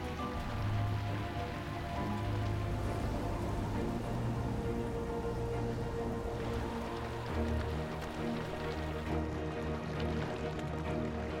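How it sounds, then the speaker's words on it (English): Steady desert rain patters on a surface throughout, a dense, even hiss of drops with no talking, at Lake Mead National Recreation Area. "When the rain does fall, it can dump an entire year's worth of rain in one area"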